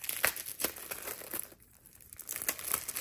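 Matte vellum envelopes are handled, producing crisp crinkling and rustling paper sounds up close, with a brief quieter pause midway before the crinkling resumes.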